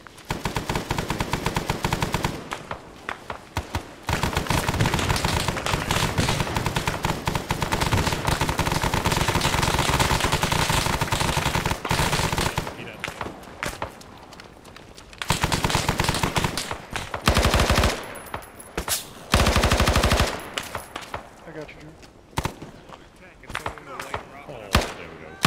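Video-game firefight during an assault on an NVA headquarters: rapid machine-gun bursts and scattered gunshots crackle loudly and almost continuously, then thin into separate shots and pauses toward the end, with someone talking over the shooting.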